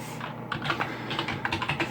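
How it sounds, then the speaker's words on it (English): Rapid keystrokes clatter on a computer keyboard while setting up a retro server with Windows 2000 Datacenter, a brief burst of uneven clicks close to the microphone with no talking. "Epic typing fail."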